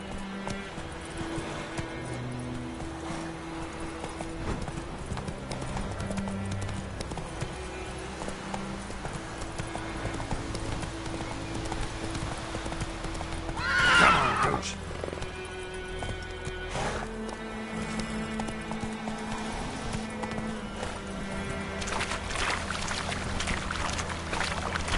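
Horse galloping in The Witcher 3 video game, a steady rhythmic clip-clop of hooves throughout with a brief louder burst midway and no talking.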